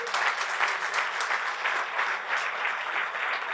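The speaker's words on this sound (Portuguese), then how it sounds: "se você vai aplaudir agora, aplauda forte que é para o Senhor Jesus" A church congregation applauds during worship, sustained loud clapping from many hands filling the room at an even, steady intensity.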